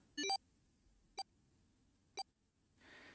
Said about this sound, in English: His bracelet gave a cold electronic beep.